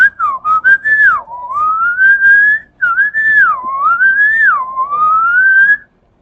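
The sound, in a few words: person whistling imitating bird calls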